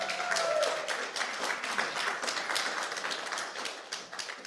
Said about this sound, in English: Let's give the music team a round of applause as well.